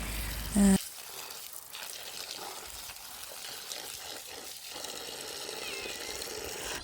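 Amaranth greens are rinsed in a vessel of water in a home kitchen: soft sloshing and trickling splashes with a few louder swishes, continuous and close, following a brief low thump at the start.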